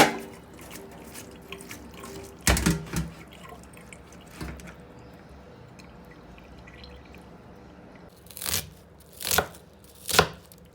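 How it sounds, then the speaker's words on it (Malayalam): Knife strikes on a cutting board as an onion is chopped finely, a few sharp close taps early on and a quicker cluster near the end, separated by quiet stretches of faint kitchen background. "ഓണിയൻ ചെറുതായി കട്ട് ചെയ്തെടുക്കുക."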